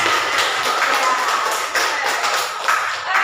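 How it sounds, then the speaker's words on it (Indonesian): Junior high students in a classroom clap together, a dense, steady patter of many hands close by that carries on throughout with slight swells. "tepuk tangan untuk kita semua"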